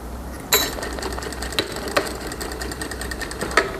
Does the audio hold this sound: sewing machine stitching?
yes